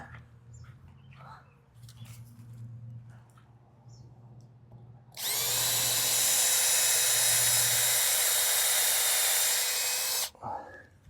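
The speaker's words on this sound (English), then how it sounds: "now I'm going to just put some screws in it." A power drill drives a screw into wood on a garden pergola trellis, a steady high whine lasting about five seconds, loud and close, after quiet outdoor background with a low hum and faint birds.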